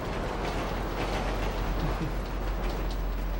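A slow train rolls past in the GTA 5 video game, a steady loud rumble with faint clattering from the wheels, no talk over it.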